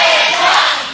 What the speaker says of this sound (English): Crowd chanting for APOC.